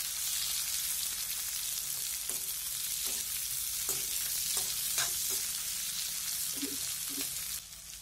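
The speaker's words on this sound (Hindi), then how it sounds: "प्याज को दोस्तों हमको थोड़ा सा भूनना है।" Onions frying in a pan over steady heat, a continuous bright sizzle with occasional spatula taps and stirring knocks scattered through, close and even in level.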